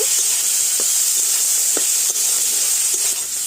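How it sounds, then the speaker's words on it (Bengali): Shrimp with salt and turmeric frying in hot oil, a steady close hiss and sizzle with occasional soft scraping stirs against the pan, no talk. "চিংড়ি মাছটা একটু ভেজে নেব"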